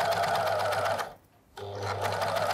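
Close whirring of a four-thread overlock sewing machine stitching knitted fabric, running loud and steady, cutting out for about half a second, then resuming.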